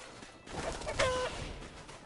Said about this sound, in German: zum Glück hat das Huhn nicht so viel Schaden gemacht